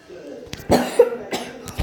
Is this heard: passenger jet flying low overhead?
no